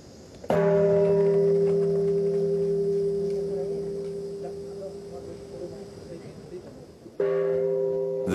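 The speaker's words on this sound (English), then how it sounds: "this bell was constructed after the war" A large Buddhist temple bell built after the war, struck twice: a loud, sustained metallic hum with clear ringing overtones that fades slowly over several seconds before the second strike rings out.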